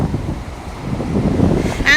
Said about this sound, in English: today it's very windy and a bit cloudy.